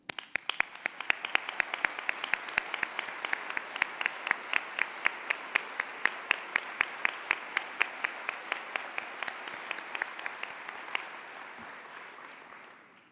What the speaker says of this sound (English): Would you please join me in a round of applause as our COE colleagues